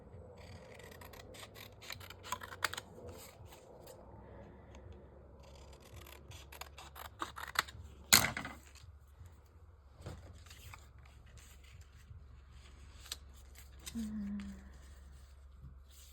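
Scissors trim a piece of paper in a quiet room, giving a few faint scattered snips and rustles and one sharper cut partway through.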